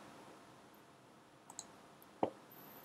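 A computer mouse clicks a few times, soft and close in a quiet room, with two light taps followed by a slightly firmer click.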